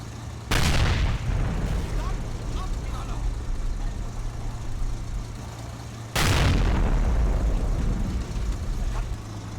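Two heavy cannon blasts from an anti-tank gun firing at a tank in the war game Combat Mission Red Thunder, about six seconds apart. Each loud boom trails off into rumble over a low steady engine drone.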